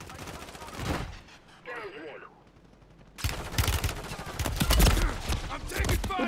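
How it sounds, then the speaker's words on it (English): Rapid bursts of gunfire in Call of Duty, loud and close, some stretches of sustained automatic fire and a brief quieter gap, with a voice speaking over part of it. "I'm taking fire."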